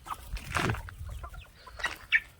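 Chickens in a backyard poultry coop, new and old birds mixed together with roosters fighting, cluck and squawk in several short bursts close by, including a louder call near the end, with no talk.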